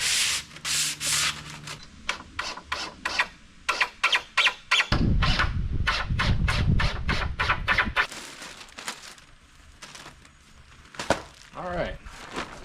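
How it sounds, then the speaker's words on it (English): Sandpaper rubbed by hand along a wooden roost bar for a turkey tractor, producing a rapid series of rhythmic scraping strokes up close, with a few pauses and brief talk near the end. "I'm just sanding it up so that the turkeys don't get splinters."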